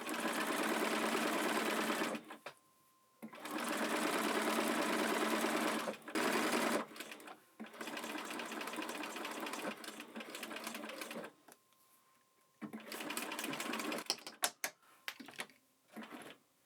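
A sewing machine stitches a bell bag appliqué in several long, fast runs of rapid mechanical chatter, separated by short pauses and ending in a few brief bursts.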